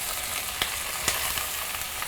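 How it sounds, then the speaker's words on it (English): Garlic, kale and mushrooms frying in a pan give a steady broadband sizzle with faint crackles and a couple of soft stirring knocks, close and continuous with no talking. "the garlic is getting a nice sizzle"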